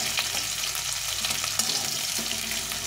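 Crushed green chilies added to ginger frying in a pan for a vegetarian vegetable curry, producing a continuous close sizzle with intermittent stirring scrapes and soft utensil taps, no voices.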